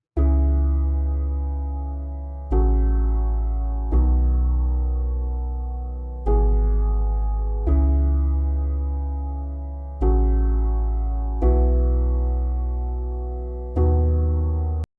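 Lofi piano chords over a deep sub bass in an FL Studio rendition of a pop song, six sustained chords struck at a slow, even pace, each decaying before the next, clear and alone.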